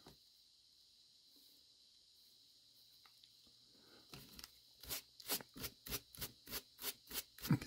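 A coarse brush strokes through fly-tying fibers on a tying desk in a run of about nine rapid, evenly spaced scratchy swipes, close and fairly loud, after a quiet start with faint rustling.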